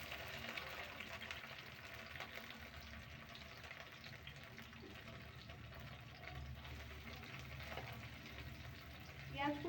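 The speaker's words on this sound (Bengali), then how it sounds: "পেঁয়াজ কুচিটা সামান্য লালচে ভাব আসা অবধি আমি একটু খুন্তির সাহায্যে নাড়াচাড়া করব।" Chopped onions fry in a pan and are stirred with a spatula, giving a steady close sizzle with soft scraping throughout and a brief clatter near the end.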